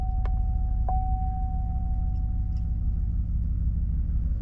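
A 2019 Chevy Silverado pickup's engine runs with a deep, steady idle rumble close by, a couple of faint chimes and a thin tone sounding over it.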